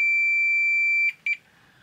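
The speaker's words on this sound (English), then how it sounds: "The buzzer's working fine." A 1990s Fluke 12 multimeter's continuity buzzer gives a steady high beep for about a second, followed by two short quick chirps, loud and close with no other sound.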